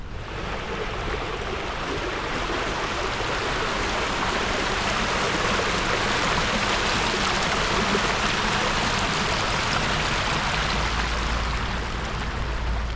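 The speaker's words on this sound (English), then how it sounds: "I think the significance behind is the eternal life, because this water never stops flowing" Water pours continuously from a public fountain in inner London, a steady, dense rush that stays loud and even throughout with no voices over it.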